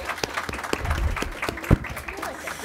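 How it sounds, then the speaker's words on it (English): Applause for commission board members at a women's commission awards event: scattered clapping from a small crowd, moderately loud, with one sharper clap near the end and some talk mixed in. "You can clap for them, sure."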